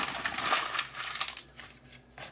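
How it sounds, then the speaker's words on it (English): Sheets of paper are crumpled by hand beside a Vogelzang 3200 wood stove, giving a close, crackling rustle in uneven bursts that fade toward the end. "And so I like to just kind of crumple up a couple of pieces."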